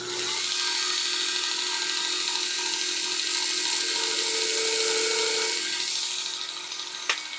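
A Jason's Works coin ring punch is sharpened on a grinder, giving a close, steady high-pitched whine that holds for several seconds, then tapers off, with a brief click near the end.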